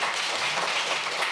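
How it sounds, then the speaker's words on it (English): A festival audience applauds at a book event: steady, dense clapping from many hands fills the room evenly for a brief moment, with no speech. "Can we clap?"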